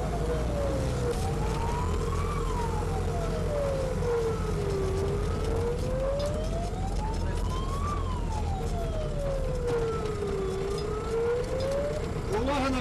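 A fire engine siren wails up and down in slow, sweeping cycles, loud and close, over the rumble of traffic and engine noise.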